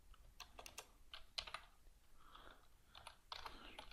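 Computer keyboard keys are tapped in quick irregular bursts while code is typed, soft and close with short pauses between clusters, and no talk over it.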